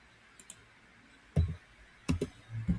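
Computer keyboard typing, a few isolated clicks followed by short clusters of louder keystrokes, close and otherwise quiet.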